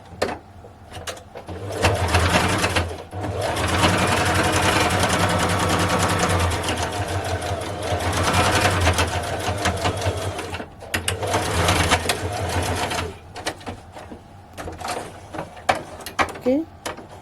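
A sewing machine stitches a fabric face mask in steady whirring bursts, with brief pauses between runs and a few clicks near the end; a voice talks intermittently over the machine.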